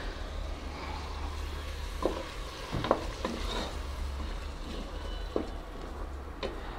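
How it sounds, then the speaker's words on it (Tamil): Ginger garlic paste fries in oil for mutton biryani, a quiet, steady low sizzle with a few soft spoon scrapes and clinks, no voices. "இஞ்சி பூண்டு வந்து இப்போ நல்லா வதங்கிருச்சு பாருங்கள்"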